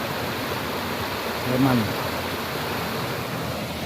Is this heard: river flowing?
yes